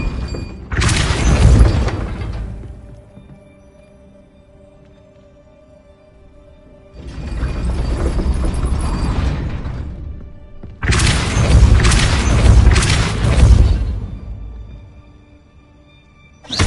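Depulso force spell effect in Hogwarts Legacy, three loud, broad whooshing blasts, each lasting a couple of seconds, separated by quiet gaps.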